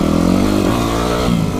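Yamaha YZF 250 pit bike, a small four-speed motorcycle, revving hard and accelerating up through its gears, loud and close with a steady buzzing engine note that climbs and briefly dips at each shift.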